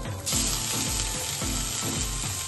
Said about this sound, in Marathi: अशा प्रकारे आपण सगळे भाज्या इथं फ्राय करून घ्यायचे